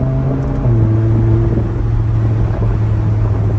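A 2015 Audi R8 V10 Spyder engine revs hard through gear shifts, its loud droning note dropping in pitch at each change before climbing again, close and continuous with no talk.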